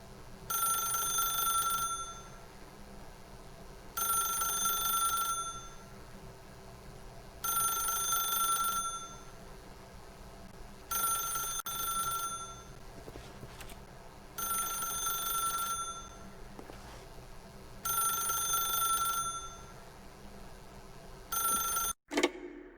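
A telephone rings in The Stanley Parable video game, six even bursts of bright electronic trilling with short silent gaps, steady and clear over a faint background hum, ending in a brief click.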